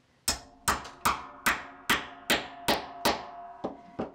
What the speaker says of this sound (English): so I'm using my 1/2 inch leather punch